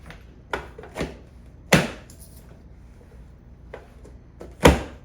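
Vegetables forced through a manual dicing chopper, giving a handful of sharp, crisp chopping thunks at irregular intervals, near and fairly loud in an otherwise quiet kitchen.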